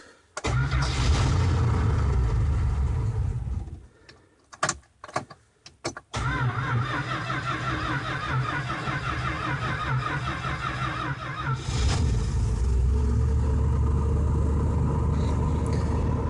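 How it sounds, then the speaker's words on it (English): The engine of a 1974 Starcraft Starcruiser boat makes a cold start: a few sputtering cranks and stumbles, then it catches and settles into a steady, rough, close idle rumble. "Haven't had it start in a few weeks, so here's a cold start."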